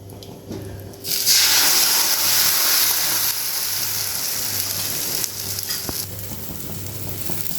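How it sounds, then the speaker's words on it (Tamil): Rava dosa batter is poured onto a well-heated dosa griddle and bursts into a loud, hissing sizzle that starts abruptly after a second and settles into a steady crackle, with no talking. "நல்ல தோசைக்கல் காஞ்ச பிறகு நம்ம தோசை ஊற்றிக்கணும்."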